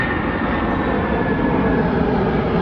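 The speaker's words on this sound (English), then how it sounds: "The plane is just right above my head," Low-flying Amazon cargo airplane passing right overhead, a loud, steady broadband engine roar that fills the whole stretch without letting up.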